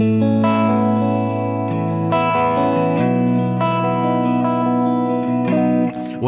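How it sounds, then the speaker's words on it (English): Electric guitar chords strummed through a modeler with chorus, several sustained chords ringing out one after another with a wide, shimmering wobble, close and clear, with a small click at the end. "when you get those multiple voicings, you know, you're chorusing now 2 different tones"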